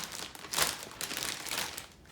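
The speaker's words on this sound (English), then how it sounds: "We're putting these into a gallon Ziploc bag." Soft plastic crinkling, a few bursts of rustling as a gallon Ziploc bag is handled close by, fairly quiet.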